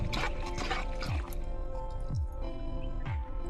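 Plant growth regulator Cultar being stirred into water up close for mango trees, with wet sloshing strokes repeating roughly once a second and no voices.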